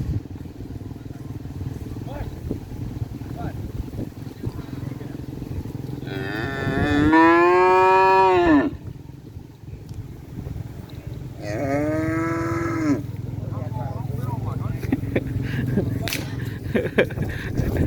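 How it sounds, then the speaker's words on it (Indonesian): Cattle at a bull-racing training field give two long, loud moos close by, one after the other, set over a constant outdoor rumble with some motorcycle-like engine noise and a few sharp clatters. "Ini sapinya."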